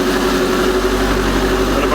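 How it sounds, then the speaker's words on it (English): Car exhaust idling, a steady, loud, low droning hum with a constant tonal whine, continuous and close throughout the short stretch. "Exhaust. It's not as loud as the other one."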